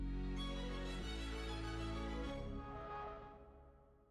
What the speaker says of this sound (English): every time we launch a today's special value, it always has its own fanfare